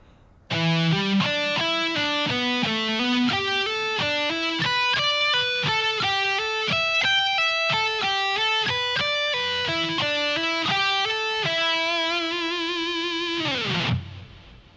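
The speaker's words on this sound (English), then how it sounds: "So at a slow tempo, the whole sequence should sound like this." A guitar plays a steady, slow pentatonic sequence of single notes climbing and descending, ending on a held note that cuts off.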